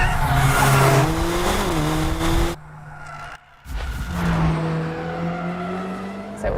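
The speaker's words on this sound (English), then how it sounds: "So it was a really nice drift." A Mercedes-AMG car drifts with heavy wheel spin, tires squealing loudly in sustained howling tones that shift pitch, broken by a brief pause before the squeal resumes close by.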